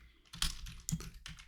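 Typing code on a computer keyboard: a short run of soft, close key clicks, a few distinct taps over a quiet background.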